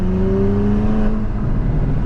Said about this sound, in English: little turbo flutter there, little burbles.